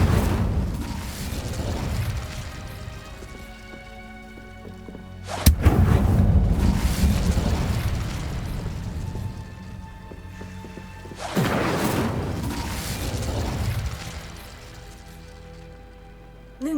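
A fire spell cast in the video game Hogwarts Legacy, heard as two loud, sudden whooshing bursts that settle into a rushing, crackling roar like heavy rain, with no talking.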